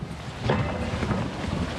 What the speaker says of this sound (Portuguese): deixa escapar o vento um pouco quando chega a rajada